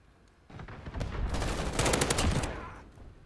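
Rapid gunfire in a first-person video game shooter, a sustained burst of automatic shots starting after a quiet half second and running loud for about two seconds before tapering off.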